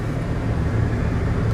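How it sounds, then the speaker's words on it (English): Race cars lapping the Nürburgring during qualifying for the 24-hour race, heard from inside a parked Bugatti Veyron as a steady, muffled engine roar in the distance with no talk. "If you could hear the cars before, it's because it's actually qualifying right now for the Nürburgring 24-hour"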